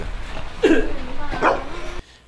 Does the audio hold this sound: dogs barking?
yes